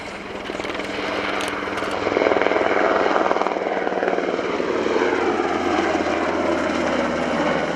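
An NH-90 helicopter's rotor thrum and turbine whine hold steady and loud nearby at the RIAT 2018 airshow at Fairford, swelling slightly as it hovers, with no talking.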